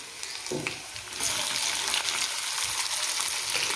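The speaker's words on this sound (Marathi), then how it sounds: "आलं लसूण छान असं गुलाबी परतलं की मग ह्यात कांदा टाकून घेणार आहे मी" Onion hits ginger and garlic already frying in a pan for a chhole recipe, with a close, bright sizzle that jumps louder partway through and keeps hissing steadily under faint stirring.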